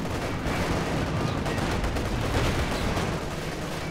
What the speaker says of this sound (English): Panther misses its second shot